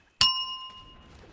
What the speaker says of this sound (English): Ring the punt bell.